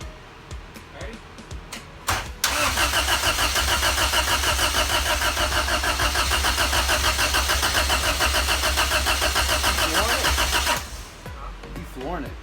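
A Honda CRX with an all-motor B17 engine and a weak starter and low-voltage problem briefly cranks, then fires up and runs hard with a loud, steady revving drone for about eight seconds before cutting off, with people talking around it.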